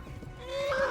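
A horse in the video game Kingdom Come: Deliverance whinnies in a rising, drawn-out call over low rumbling background noise, fairly close and moderately loud.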